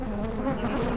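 Angry bees swarming around an old hive, a dense, close, continuous buzz from many insects that hums steadily throughout with no talking.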